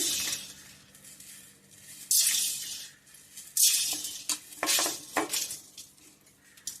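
Black peppercorns dry roast in a hot pan, rattling and scraping as they are stirred, with sharp clinks of a utensil against the metal and a faint sizzle underneath.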